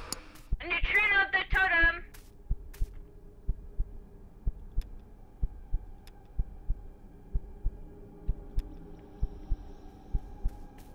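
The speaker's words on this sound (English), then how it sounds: "I can hear my heartbeat." Heartbeat sound effect in the horror video game Ghost Exorcism Inc, a steady low thump repeating about every half second, following a brief burst of loud voices and continuing alone at moderate level.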